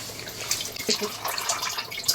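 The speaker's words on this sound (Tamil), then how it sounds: "தண்ணி வந்து நல்லா கொதிக்க ஆரம்பிச்சிருச்சு ரைஸ் சேர்த்துக்கிறேன்" Rice tipped into a pot of boiling water, with a soft, close hiss of bubbling and splashing over about two seconds and no talking.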